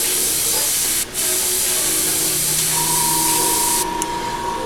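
An airbrush sprays paint in a steady, close, sharp hiss that runs almost without a break, with one brief pause and a slight change near the end, no voices.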